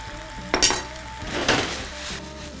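Peas tip into a pan of half-cooked macaroni frying with capsicum and vegetables, giving two sharp bursts of sizzle and clatter over a steady background hiss, with no talking.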